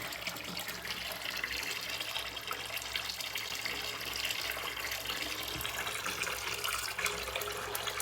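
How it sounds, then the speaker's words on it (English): Hot water runs from a tap and drains into a sink, making a continuous rushing flow that holds steady and moderately quiet from start to finish, with no voices. "Checking that the hot water works correctly, and we're checking that it drains okay."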